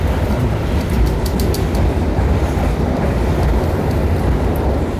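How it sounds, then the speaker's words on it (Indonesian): The Gaya Baru Malam Selatan passenger train pulling into Walikukun station, a loud, steady rumble of wheels and carriages with a dense low roar and faint high squeaks, sustained without pause throughout. "perjalanan kereta api Gaya Baru Malam Selatan tiba di stasiun Walikukun"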